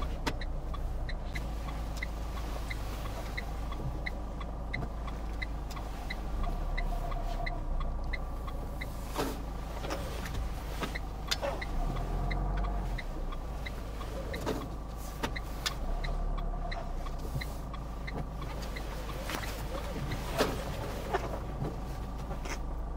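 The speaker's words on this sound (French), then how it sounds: "On va se faire un créneau ici à gauche." A car engine hums steadily with low rumble while the vehicle reverses into a parallel parking space on the left during a driving test, a continuous close drone with no one speaking.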